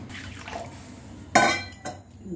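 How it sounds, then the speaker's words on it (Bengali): Water poured into a pan of fried cumin, giving a brief splashing gush and a short second splash, close and clear against quiet kitchen background. "এবার কিছুটা জল দিয়ে দিচ্ছি"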